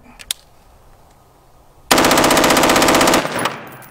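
A full-size Dragonfire with a 16-inch barrel fires a rapid burst of about 1.3 seconds, loud and close, after a few faint clicks of cocking and handling.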